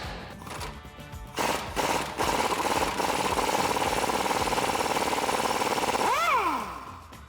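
Impact wrench hammering the sway bar end link nut off a two-door Jeep Wrangler JK, a sustained rapid rattling burst lasting several seconds that ends with a falling whine, loud and close.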